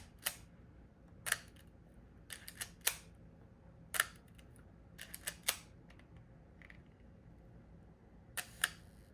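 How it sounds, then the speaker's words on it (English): Leica M6 film camera with original strap, its advance lever cranked and shutter fired repeatedly: sharp mechanical clicks and ratcheting winds in irregular bursts across the span, close and crisp over a quiet room. "Can you crank and fire the shutter of this M6?"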